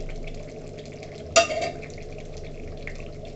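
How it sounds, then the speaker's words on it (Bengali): Mung dal tipped into a pan of frying fish head in oil, a sudden sharp sizzle bursting up and then fading over about a second as it is stirred, with quiet kitchen background before and after. "এখন আমি ডালটা দিয়ে দেব।"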